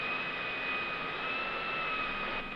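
A black private jet taxies to the runway at Los Santos International Airfield in the game GTA V. Its engines make a steady roaring whine with a high whistle over it, continuous and fairly loud.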